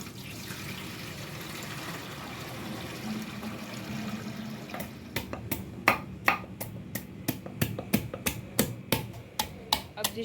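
Rice being washed in a large tray with water, starting as a steady wet sloshing and swishing, then turning into a fast run of sharp, regular clacks and splashes as the grains are worked by hand, close up and without talk.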